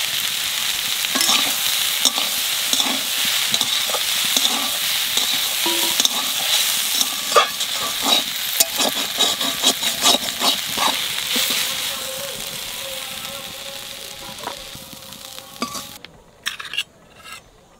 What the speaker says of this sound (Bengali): মেথি শাক ভাজা হয়ে গেছে, এখানে বেগুন ভাজা মেথি শাকের মধ্যে দিয়ে নাড়িয়ে চেড়ে নামাই দেবো